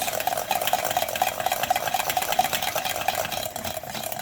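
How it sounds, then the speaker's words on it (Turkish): A spoon steadily scraping and stirring roasted kapya pepper purée in a pot, with a continuous close wet swishing and a faint repeating squeak at a steady rhythm, alone without talk. "Kapya biberimizi bu şekilde karıştırıyoruz"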